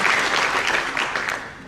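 Sustained crowd applause for Denpasar city at a Bali public event, dense and steady throughout, slowly fading slightly toward the end, with no voices over it.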